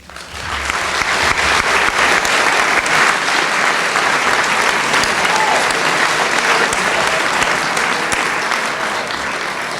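Sustained applause fills the hall at the Centre College 2024 distinguished alumni recognition ceremony, a loud, steady wash of many hands clapping that swells quickly and carries on throughout.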